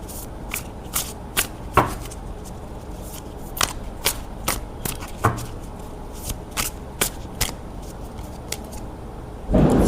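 A tarot card deck is shuffled close by in a series of quick, crisp riffles and taps. The strokes come in an uneven rhythm, with short pauses between them.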